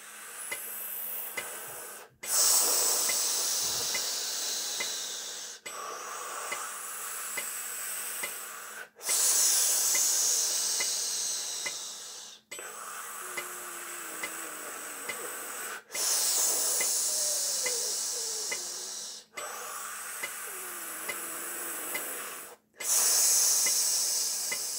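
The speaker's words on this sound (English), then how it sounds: "Let's just do some tactical breathing." Slow, deliberate tactical breathing in and out, close to the microphone, with long airy hissing breaths separated by short pauses in an even repeating cycle.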